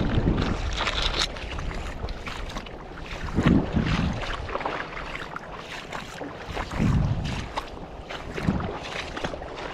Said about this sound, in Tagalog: Malakas pa rin yung hangin dito mga katangay.